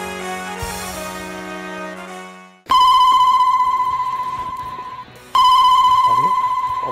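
A telephone rings loudly in a Bangla drama scene, with two long bursts of bright electronic ringtone after a short musical passage.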